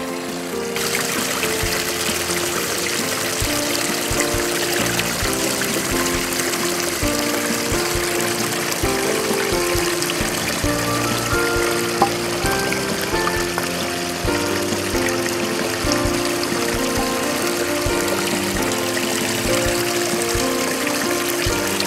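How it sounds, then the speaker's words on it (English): Water from a pump trickling down a small pond waterfall, a steady continuous splashing and babbling that stays even throughout, with no talking. "Now we have a pond with a little waterfall."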